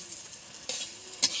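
Chickpea fritters (bora) fry in hot oil in a wok with a steady close sizzle. Two short louder crackling bursts rise above it.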